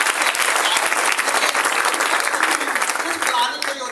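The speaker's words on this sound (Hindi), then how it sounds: "जोरदार ताली बजाते हैं।" Loud, sustained applause from a large crowd, dense steady clapping filling the whole stretch without a break.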